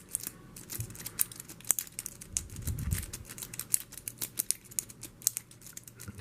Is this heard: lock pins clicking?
yes